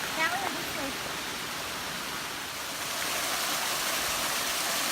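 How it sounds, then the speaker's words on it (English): Big waterfall at Bonita Falls roars as a steady, broadband rush of falling water, constant and loud throughout with no clear talk over it. "Look at this waterfall's so big I can't even get it in one frame."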